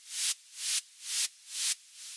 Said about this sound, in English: Some people would like to put white noise in the background of their tracks.